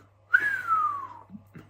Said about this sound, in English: Can I whistle or not?